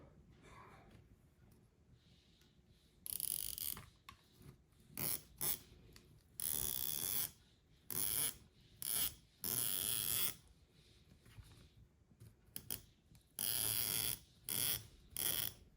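A sewing machine top-stitches the faux fly of wide-leg pants, running in repeated short bursts of rapid mechanical stitching with quiet pauses between runs, close to the microphone.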